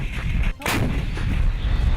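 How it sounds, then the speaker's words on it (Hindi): A missile strikes a drone in a loud explosion, a heavy booming blast that bursts out over a constant rumbling, crackling roar. "तेजी से बढ़ रही एक मिसाइल उससे टकराई और वो जोरदार धमाके के साथ आग के गोले में बदल गया"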